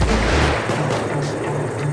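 Gunfire from snipers in the heist shooter Payday 2, a dense, booming barrage that rumbles continuously through the whole stretch without a clear break between shots.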